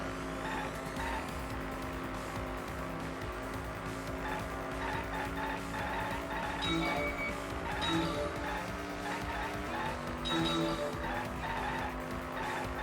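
Little cars racing in Danganronpa V3, with a continuous engine roar and repeated tire squeals and skids, loud and close throughout.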